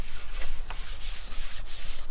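Steady, rhythmic hand sanding: close scratchy rubbing strokes on wood, repeating back and forth at an even pace with no voices.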